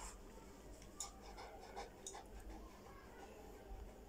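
A small dog pants quietly and steadily, breathing in short quick breaths with an occasional soft whimper, faint beneath a constant background hiss.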